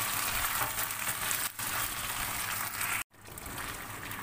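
Sardines (mackerel) hit a hot pan and sizzle loudly in a steady, close hiss with faint stirring, briefly cutting out for a moment before resuming.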